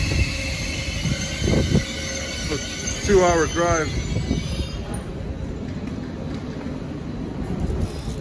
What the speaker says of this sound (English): Regional Express train.